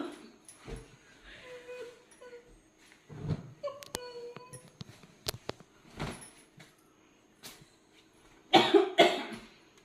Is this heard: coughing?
yes